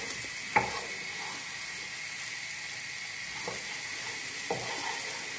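Mushrooms frying in butter in a pan on a home stove give a steady, even sizzle, broken by a few brief clinks and scrapes of stirring.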